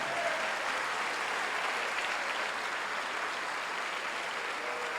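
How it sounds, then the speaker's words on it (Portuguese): A church congregation claps loudly and steadily, a thick unbroken roar of many hands with no speech over it. "Dá um aplauso a Jesus bem forte."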